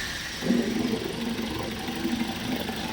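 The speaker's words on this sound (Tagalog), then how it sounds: "pa-start ko muna itong makina" A Suzuki Ertiga engine turns over and settles into a steady, low idle hum close by.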